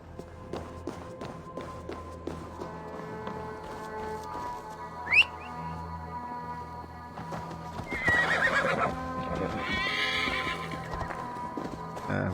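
Horse neighing and whinnying with clip-clopping hooves in Assassin's Creed Valhalla, a steady hoof rhythm over game ambience, a sharp whinny near the middle and a louder burst of movement toward the end.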